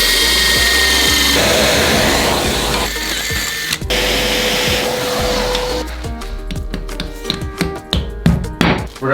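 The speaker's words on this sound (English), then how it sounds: "Now I just need to drill these out." A power drill bores mounting holes for a toilet, whirring steadily and loudly up close for several seconds before breaking into short, uneven bursts of drilling toward the end.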